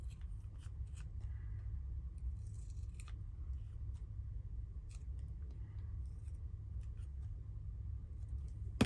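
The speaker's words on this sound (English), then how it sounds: "Just going to cut it out a bit better." Scissors snipping paper ephemera at a craft table, a run of quiet, sharp cuts at irregular intervals over a steady low room hum.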